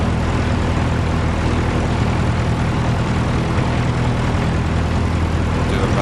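A light airplane's propeller engine runs at a steady, loud drone before takeoff on a runway in a crosswind, a continuous low rumble with no pauses and no voices.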